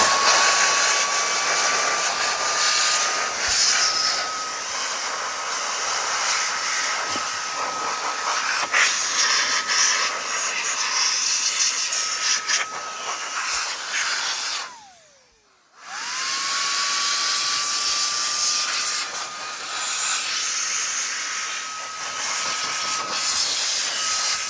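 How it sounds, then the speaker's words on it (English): A Makita XGT cordless air blower blasts brick dust off parts with a loud, continuous rushing whine. It cuts out briefly partway through, then spins back up and keeps blowing steadily. "So I've got the blaster, the Makita XGT air blower"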